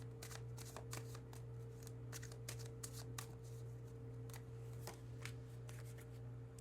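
Playing cards shuffled for a card reading, a steady run of quick riffling bursts with soft flicks and snaps, close and fairly quiet over a constant low electrical hum, with no talking.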